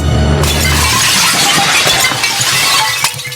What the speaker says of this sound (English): she doesn't melt, she shatters.